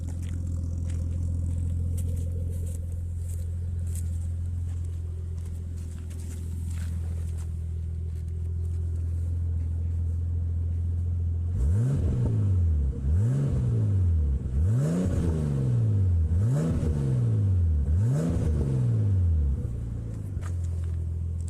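A Nissan Skyline R34's engine idles with a deep, steady rumble, then is revved hard five or six times in quick succession, each rev rising sharply and falling back, loud and close.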